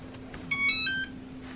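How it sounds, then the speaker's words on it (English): A short electronic beep sequence from a hoverboard, a few quick, high-pitched tones, heard once against a faint steady hum. "it usually makes a beeping noise"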